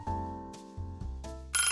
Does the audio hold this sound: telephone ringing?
yes